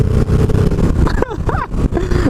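A 2015 Victory Ness Magnum motorcycle at full throttle, its engine roaring loud and close with rising, wavering revs, the pitch sweeping up as it accelerates hard.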